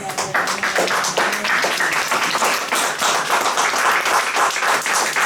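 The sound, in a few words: congregation applauding in church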